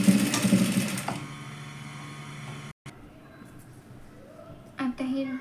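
A sewing machine stitches a tuck along a blouse neckline, whirring loudly for about a second before the noise drops to a quieter mechanical hum. A short burst of activity returns near the end, and a voice may be faintly present.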